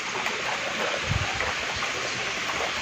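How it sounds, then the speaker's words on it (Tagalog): Heavy rain from Typhoon Julian in Taiwan pours as a continuous dense wash of noise, steady and close, with a brief low rumble partway through. "At tuloy-tuloy pa rin po yung ulan."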